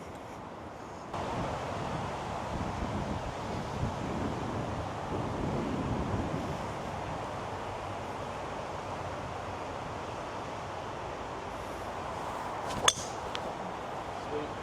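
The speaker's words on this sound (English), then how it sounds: "that wind is brutal" Strong, gusty wind at Tiburon Golf Course, a steady broad roar buffeting the microphone for the whole stretch, with one sharp tap near the end.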